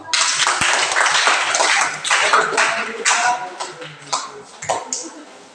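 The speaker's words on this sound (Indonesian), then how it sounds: "silakan tepuk tangan untuk kelompok kedua" A classroom of students clapping for the second group, a dense burst of applause that fades unevenly toward the end, close and fairly loud, with some voices mixed in.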